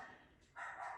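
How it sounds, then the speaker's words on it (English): A neighbouring dog barks once from next door, a short, faint, distant yap heard outdoors after a quiet moment. "Sorry about the dog next door."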